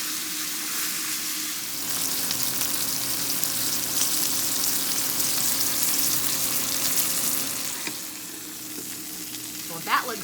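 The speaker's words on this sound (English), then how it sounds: "I love using my cast iron skillet to sear it off" Pot roast searing in a cast iron skillet, a dense steady sizzle that holds for several seconds, then eases slightly before a brief clatter near the end, close-up with no talking.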